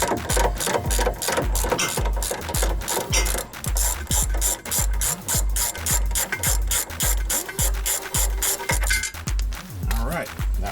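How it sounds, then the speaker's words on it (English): Rapid, steady ratchet clicking runs throughout while a sway bar link bolt is loosened on a 2013+ Hyundai Santa Fe, close and loud with a regular mechanical rhythm. "So I'm gonna try to reach it with a ratchet."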